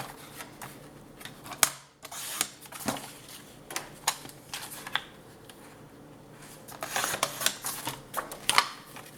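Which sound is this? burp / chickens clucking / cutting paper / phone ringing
cutting paper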